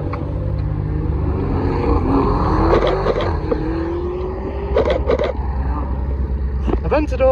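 Lamborghini Aventador supercar leaving a supercar festival, its engine rising in a long pass-by whose pitch climbs then fades, amid crowd noise, bursts of other traffic and occasional nearby voices.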